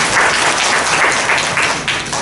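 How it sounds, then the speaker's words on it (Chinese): A seminar audience applauds in a hall, with a dense, continuous wash of many hands clapping at close range that holds steady for a couple of seconds and tapers slightly at the end. "给他鼓掌一下吧"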